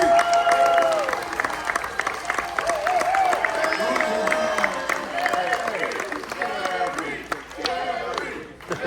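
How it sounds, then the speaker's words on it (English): A large audience claps and cheers continuously for a Raiders alumni guest at a fan cruise panel session, dense sustained applause with shouts mixed in, filling the whole stretch. "Kenny and Reggie, did you always want these type of applause"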